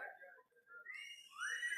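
A conference audience in India whistles loudly together, shrill tones rising and overlapping, with one piercing whistle sweeping upward near the end.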